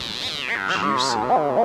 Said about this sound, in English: So that's the sound of one oscillator.